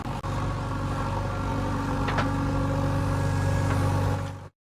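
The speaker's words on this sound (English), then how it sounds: "Backhoe loader." A backhoe loader's diesel engine runs at a steady, moderately loud idle-like rumble for a few seconds, with a couple of faint metallic clinks, before cutting off abruptly.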